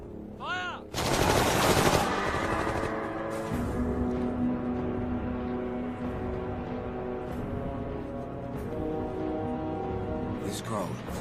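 Machine gun fire in an action movie, a loud sustained burst of rapid automatic shots layered with score and effects, following a shouted command in German.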